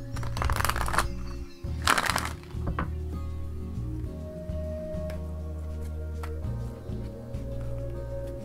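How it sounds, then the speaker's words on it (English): A deck of tarot cards is shuffled repeatedly, with crisp riffling bursts at the start, then a steady run of soft card slides and taps over a low background hum, with no talking. "Give me a moment to center myself and shuffle the cards."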